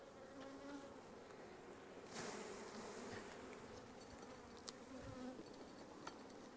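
Honeybees buzz steadily around an opened hive during a hive split, a dense close hum with no one speaking.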